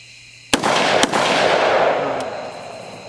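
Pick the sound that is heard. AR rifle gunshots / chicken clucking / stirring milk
AR rifle gunshots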